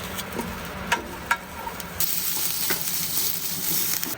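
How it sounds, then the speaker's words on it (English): Onions frying on a camp stove give off a steady close sizzle, broken by a few sharp pops and clicks as the pan heats. "I love onions on my burger. So I'm gonna get these nice and crisp."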